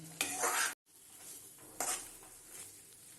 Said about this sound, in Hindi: ये देखिए इसको हम थोड़ा सा और भूंजेंगे ताकि घी इससे एकदम अलग हो जाए